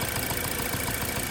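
A car engine idling with one cylinder misfiring, a rough, continuous close rumble heard briefly with no talk.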